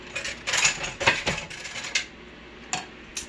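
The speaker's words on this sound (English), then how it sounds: "Let me get a spoon so we can just see what it's like." A metal spoon is picked up among dishes while serving Millie's Cowboys Soup, with a few bright clinks and scrapes close by, then quieter gaps broken by two sharp taps.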